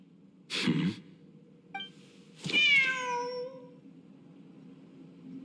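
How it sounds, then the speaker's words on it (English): A cat in the Genshin Impact video game gives a clear, drawn-out meow over a steady low background hum, with a short breathy sound just before it. "The cat!"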